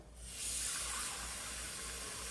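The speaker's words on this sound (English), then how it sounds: "Then I'm going to add about 2 cups of water." About two cups of water pour steadily into a pan of eggplant jhol curry, a soft continuous splashing hiss that swells after a quiet start and holds to the end, with no talk.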